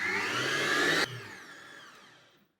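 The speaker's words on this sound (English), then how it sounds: "we're going to be whisking this for approximately 10 minutes until the butter is separated from the whey" An electric mixer whisks cream into butter for homemade ghee, running at a steady whir for about a second before switching off and trailing away into a fading hum.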